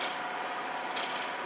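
A woodturning tool scrapes a bead on a spinning wooden paten of mixed grain, producing a steady, close rasping hiss throughout with one brief brighter scrape partway through.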